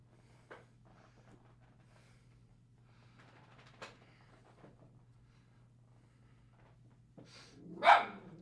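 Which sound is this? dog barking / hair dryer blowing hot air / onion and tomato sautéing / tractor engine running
dog barking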